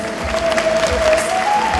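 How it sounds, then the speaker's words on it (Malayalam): Applause from an audience at the opening of a bhajan concert in an auditorium, a steady bed of clapping sustained through the moment with a faint tone running beneath. "കൈയടിക്കാം"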